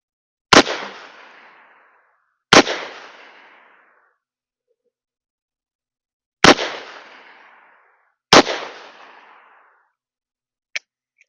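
A Taurus Model 66 revolver with a 6-inch barrel fires .38 Special rounds outdoors: four sharp, loud shots spaced a couple of seconds apart, each trailing off in a short echo, followed by a small metallic click.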